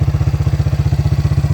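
A Suzuki King Quad ATV engine runs steadily after an engine replacement, a close, even, rapid chugging idle with a regular pulsing beat and no voices.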